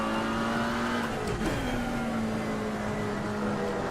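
A Porsche race car in a GT4 race at the Nürburgring in wet conditions, its engine droning at a steady high pitch nearby, holding a sustained note with a slight dip, no voices over it.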